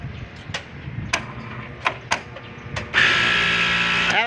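A 10-ton air conditioner outdoor unit with its compressor running while the fan motor fails to turn: a few sharp mechanical clicks, then a steady, loud broadband hum that starts suddenly and continues to the end.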